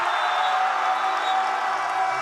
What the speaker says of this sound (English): You hear the roar of the crowd as they go undefeated on this last day of pool play